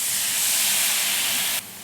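Mustard paste hits hot frying tomato masala in a pan and sizzles in a loud, steady broadband hiss that drops slightly in the last moments.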